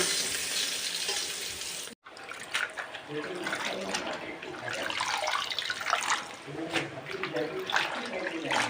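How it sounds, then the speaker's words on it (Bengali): Potatoes fry in a pan, a continuous hiss and sizzle with brief clatters of stirring, broken by a short silent gap, while someone talks over the cooking. "তারপর আমি আলুটা ভেজে নিই"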